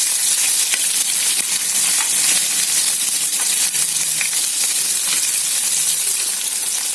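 Chana dal, urad dal and thinly sliced onion fry in hot oil, a loud, steady sizzle with bright crackling hiss throughout and faint stirring, no voices.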